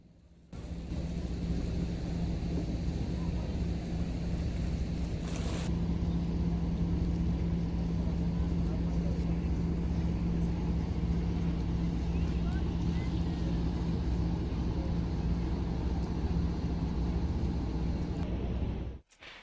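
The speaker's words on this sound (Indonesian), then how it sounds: "Suasana di pelabuhan terlihat ramai lancar, banyak buruh bagasi yang sedang mengangkat barang penumpang ke kapal Cantika Lestari 99 dan kapal Elizabeth II" Busy harbor in Ambon where porters load passenger baggage onto the ships Cantika Lestari 99 and Elizabeth II; a constant broad rumble of engines and open air fills the scene without a break.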